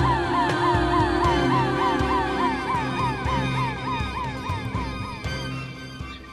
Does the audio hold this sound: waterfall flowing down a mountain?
no